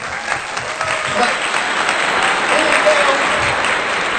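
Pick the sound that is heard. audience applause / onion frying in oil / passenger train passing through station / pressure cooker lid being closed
audience applause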